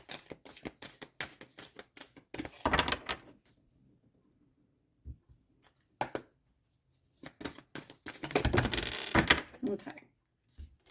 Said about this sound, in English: pre-shuffled, but I'll just give them a quick shuffle every time.